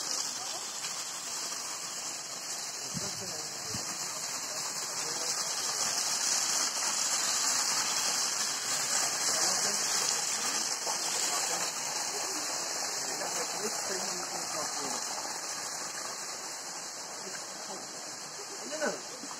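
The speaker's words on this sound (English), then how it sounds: "seems to be water coming out of everywhere." Water runs and splashes all around a trail leading to a waterfall, a constant rushing wash that swells in the middle and eases toward the end, with a high steady insect-like hiss above it and occasional faint voices.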